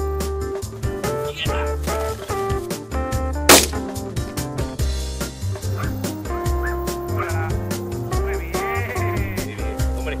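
A Brittany spaniel, an old French spaniel breed, barks and whimpers close by over music. Short yips and whines repeat irregularly throughout, with one sharp loud burst near the middle.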